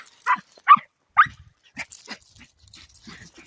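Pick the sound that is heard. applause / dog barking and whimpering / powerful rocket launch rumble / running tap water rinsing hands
dog barking and whimpering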